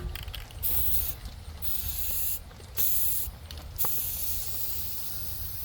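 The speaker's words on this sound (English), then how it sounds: "I'm gonna get one coat of spray on here" Aerosol spray paint hisses onto tiller parts outdoors in several short bursts separated by brief pauses, close and fairly quiet, with a faint mechanical rattle underneath.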